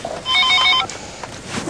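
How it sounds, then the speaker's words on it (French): A telephone rings in a home, a short burst of electronic trilling bell pulses up close, followed by quiet room noise and faint movement. "Ah, téléphone."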